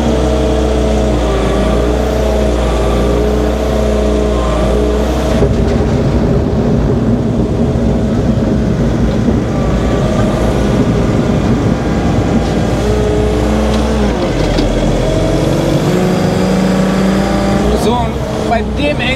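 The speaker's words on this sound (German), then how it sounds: "Der LKW ist gekommen." A truck arriving over icy, slippery roads on a farm, its engine a steady low rumble throughout, loud and close, with people talking over it.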